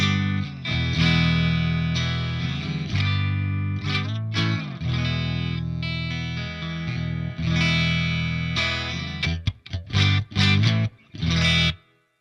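An electric guitar with single-coil pickups plays through a Blackstar St. James 50W EL34 tube amp, set clean with subtle reverb. Sustained full chords ring out, then give way to short choppy stabs separated by brief silences, with no talking.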